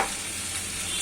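Vegetables for sukto stir-fry in a pan with a brief, continuous, even sizzle. No one speaks.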